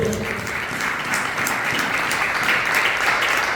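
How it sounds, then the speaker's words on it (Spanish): A church congregation claps loudly and steadily, a dense, sustained wash of applause filling the room throughout, with no voices rising above it. "dar un fuerte aplauso al Señor"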